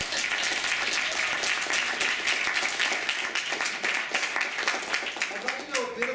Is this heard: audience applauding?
yes